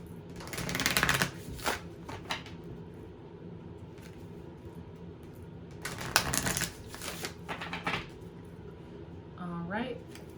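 An oracle card deck from the Moonology set is shuffled by hand in a few quick riffling bursts, close and crisp, separated by quieter pauses, with a brief voice near the end.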